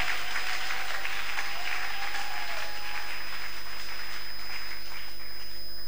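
A church congregation clapping together in praise of the Lord during a sermon, a steady even wash of applause heard from a distance over low room hum, no voices.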